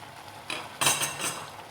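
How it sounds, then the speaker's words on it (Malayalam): A lid lifted off a pot of cooking pumpkin and bean curry, giving a short metallic clink and clatter, close and fairly quiet, with no voices. "ഞാൻ ഇതിൻ്റെ മൂടി തുറക്കുവാണ്."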